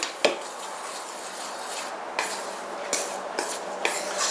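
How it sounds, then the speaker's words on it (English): A spoon mixes four cups of flour with salt in a bowl for homemade soft pretzel dough, giving soft scraping strokes with a sharp clink at the start and a few more light knocks later, fairly quiet and with no talking. "next we have to mix the 4 cups of flour and the salt"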